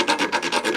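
Rhythmic metal-on-metal rasping as a thread is chased on a 1976 Honda MT125 motorcycle, about six even back-and-forth strokes, close and fairly loud with no talk.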